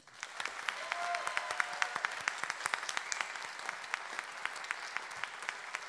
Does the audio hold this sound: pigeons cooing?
no